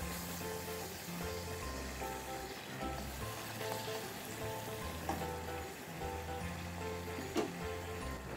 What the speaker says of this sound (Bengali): এবার লুচিটা ভাজলেই আমার রান্না মোটামুটি কমপ্লিট। তো চলো লুচিগুলো একা একা ভেজে নিই।